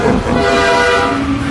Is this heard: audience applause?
no